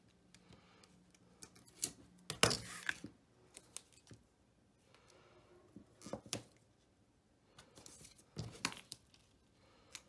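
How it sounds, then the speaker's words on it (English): Backing liner peeled off score tape on a crafting mini album, giving quiet dry tearing and crinkling bursts, the strongest a sharp rip near the middle and a few shorter ones later, close by with no talk. "you always want to burnish score tape down before you try to peel off the liner"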